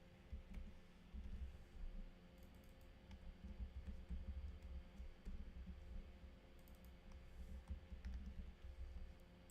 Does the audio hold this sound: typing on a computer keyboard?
yes